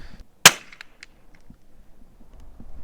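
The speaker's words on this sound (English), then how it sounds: "I've got one more shot." A single sharp crack from a CZ 457 AT-ONE .22LR bolt-action rifle at an outdoor range, close and loud, followed by faint clicks and quiet handling.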